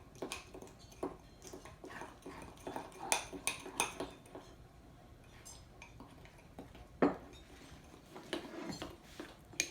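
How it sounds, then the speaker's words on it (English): A spoon clinks and scrapes against a mug while stirring blueberry muffin batter for a microwave mug muffin, quiet irregular taps and scrapes close up, with no talking. "with your spoon, you're going to mix all of that before you put the blueberries in"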